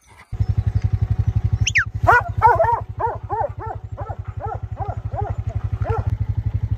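A farm heading dog barks in a rapid, repeated series of yips over a loud, close, throbbing motorcycle engine, the barks slightly distant and continuing to the end.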